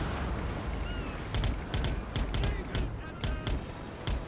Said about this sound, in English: they're shooting at me as well